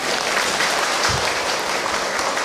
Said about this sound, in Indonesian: Tepuk tangan atuh.